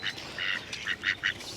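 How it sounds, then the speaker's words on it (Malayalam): Ducks quack in a series of short, bright calls while being fed beside a canal in Venice, Los Angeles. The bursts come in quick, uneven groups at moderate distance, with no voices over them. "താറാവുകൾക്ക് തീറ്റ കൊടുക്കുന്നു."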